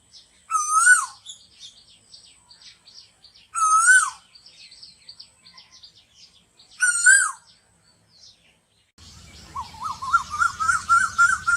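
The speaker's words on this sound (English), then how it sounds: "In this video, you can see the bird Koel." A koel bird calls in three separate bursts, each a loud, clear, rising cry with pauses between them, then breaks into a quicker run of repeated notes at the end.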